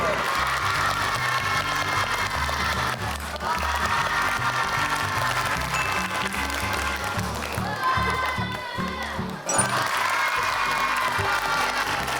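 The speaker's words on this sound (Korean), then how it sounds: "박수." Children clap and cheer at an elementary school ice hockey experience event, a continuous burst of applause mixed with young voices that carries on for several seconds, with a short lull near the end.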